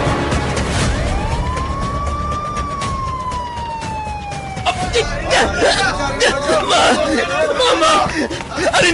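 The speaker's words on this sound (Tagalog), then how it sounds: "Ari na ang ambulansya!" An ambulance siren rises and holds in a long wail in the first half, then fades under frantic, overlapping shouting voices.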